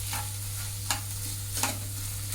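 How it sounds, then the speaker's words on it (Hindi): Basmati rice for pulao frying on a low flame while being stirred, a steady soft sizzle under a low hum with a few scraping stirs, close and fairly quiet. "अब लाइट फ्लेम में इसे अच्छे से फ्राई करेंगे ताकि ये चिपचिपा ना हो।"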